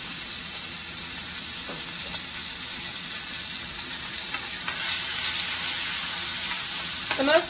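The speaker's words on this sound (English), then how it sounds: "I'm gonna kind of rotate this on the side. Get the sear all the way around." Pork tenderloin sears in a hot pan with a steady, close sizzle and hiss, with a few light clicks and scrapes as the meat is turned.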